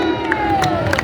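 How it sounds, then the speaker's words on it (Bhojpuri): A crowd at a Ram bhajan devotional music event cheers and shouts in a dense, loud burst, with scattered claps mixed into the roar. "एक बार जोरदार ताली होनी चाहिए।"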